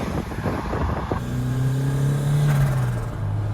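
A Ford Sierra Cosworth replica fitted with an eBay turbo setup revs close by, its engine note rising and sweeping as the throttle is blipped and held, with no talk over it.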